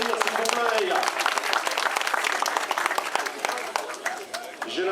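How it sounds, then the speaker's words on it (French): Sustained audience applause and clapping for cyclist Alexis Guérin at a Kreiz Breizh Elites 2013 stage ceremony in Saint-Ploërdut, dense and steady throughout, with an announcer's voice and crowd chatter mixed in. "Merci de l'applaudir, s'il vous plaît."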